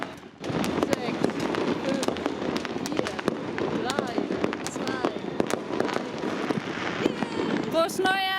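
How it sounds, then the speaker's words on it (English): New Year's fireworks set off across the whole city of Cuenca, Ecuador, bursting on every side in a dense, continuous barrage of near and distant bangs and crackles, with people talking and cheering underneath. "the whole city set off individual displays, so we're literally surrounded by fireworks, 360 degrees all around us"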